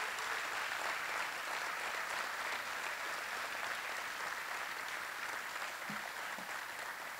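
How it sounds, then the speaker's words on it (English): Audience at a university awards gala applauds its honorees with a steady, dense wash of clapping that holds at an even level from start to finish, with no talk over it. "Let's give them another round of applause"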